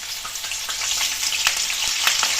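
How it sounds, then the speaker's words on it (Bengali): Cauliflower fries in white oil in a wok, giving a loud, dense crackling sizzle with a few sharp pops, close and continuous without talk. "এবার ফুলকপিটা ভেজে নেব"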